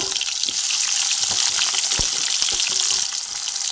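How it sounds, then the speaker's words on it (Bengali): Chopped onion hits hot oil flavored with fried bay leaf, giving a loud, steady sizzle with a few clinks and stirring knocks, no voices. "এই যে ভাজা তেজপাতাটা গরম হয়ে গেছে পেঁয়াজটা দিয়ে দিচ্ছি"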